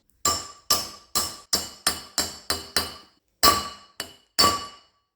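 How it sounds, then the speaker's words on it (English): Metal bearings being fitted into a welded pedestal roller give sharp, ringing metallic clinks: eight evenly spaced strikes, a brief pause, then three more, each decaying quickly in a quiet room. "Now that the welds have been finished, I can go ahead and insert the bearings."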